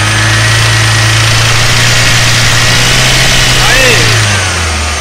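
A 2014 Chevrolet Prisma engine, suspected of piston skirt or piston pin knock, is held at about 3000-4000 RPM, producing a loud, close, steady droning rev that swells slightly before easing off.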